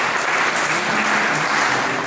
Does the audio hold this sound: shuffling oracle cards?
no